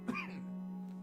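A single short cough bursts out at the start, close to the microphone and fairly loud, followed by a faint voiced tail and a steady low hum in the background.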